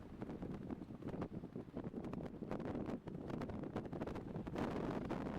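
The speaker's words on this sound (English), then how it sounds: "Boy, oh boy, is that wind blowing." Strong wind roars across an Irish links golf course and buffets the microphone with a continuous, loud rumble and gusty rushing that never lets up.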